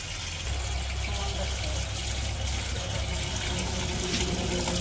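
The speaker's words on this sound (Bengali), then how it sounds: "এই যে পানি আইছে শাকগুলা ধুয়ে নিতেছি" Running tap water pours steadily over leafy greens (shak) being washed in a village kitchen, a continuous close splashing rush that stays loud and even from start to finish.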